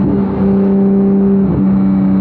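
A Porsche 911 GT3 (991.2) engine holds a steady, loud high-revving drone, with a brief dip in pitch midway before it settles back into the sustained whine.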